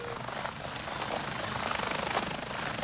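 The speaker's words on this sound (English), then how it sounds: "he was met by a University Air Care helicopter." University Air Care medical helicopter arriving at an open field for a child in shock: a loud, steady rotor roar with a fast chopping pulse, close by and constant throughout, with no talking.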